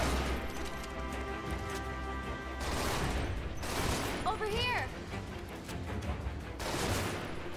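Video-game gunfire crackles in bursts through a busy, dense mix of game effects, with louder volleys near the middle and end and faint voices mixed in.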